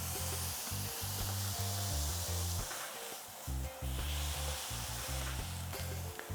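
A smashed, salted hamburger patty sizzles on a hot pan, giving a steady close hiss beneath a low, rhythmic musical backing.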